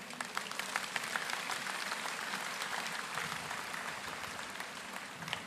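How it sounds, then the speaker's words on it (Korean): A church congregation at a joint Liberation Day service claps to welcome the mayor of Jeonju, a sustained, moderately distant burst of many hands that stays steady throughout without speech. "우리 시장님 나오실 때 여러분 큰 박수로 맞이해 주시길 바랍니다"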